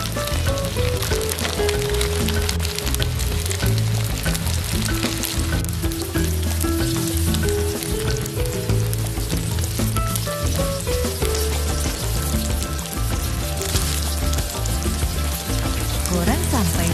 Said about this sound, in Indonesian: Lalu goreng semua rolladenya.